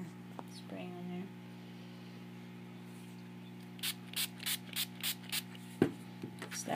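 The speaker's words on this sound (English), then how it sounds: "I'm gonna flip it and do more spraying on there" Short, rhythmic bursts of aerosol spray paint hiss onto conference signs, about seven quick pulses in a row, close and fairly loud, over a steady low hum with a brief voice and handling noise.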